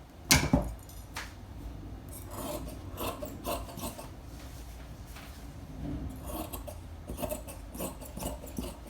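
Scissors cutting out a paper or fabric dress pattern, a close, continuous rasping snip-and-slide texture with irregular strokes, no talking.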